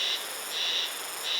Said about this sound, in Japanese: セミだ。